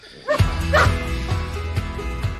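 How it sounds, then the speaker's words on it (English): Dogs bark close by in a quick series, several sharp woofs with yips between them and no voices. "you've replaced it with noisy dogs"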